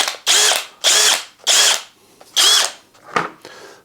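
A Dong Cheng 20V cordless hammer drill run in short bursts, five whirring spin-ups each revving up and winding down, with brief quiet gaps between, close and loud.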